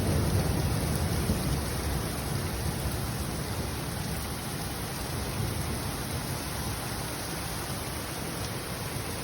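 Heavy rain pours down in Riyadh with a dense, loud, steady roar, and low rumbling thunder blends into the downpour throughout.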